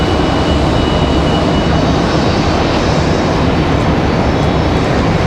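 A Southwest airliner from Orlando touches down just behind the listener at Raleigh-Durham airport, its engines producing a continuous, fairly loud roar that holds steady throughout, with no talking.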